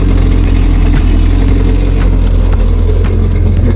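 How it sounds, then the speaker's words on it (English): A jetboat engine idles and runs steadily while being flushed with a garden hose, giving a loud, continuous mid-pitched rumble close by with no talking. "So now that the engine is on"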